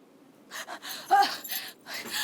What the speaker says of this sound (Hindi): इतना हाँफ क्यों रही है?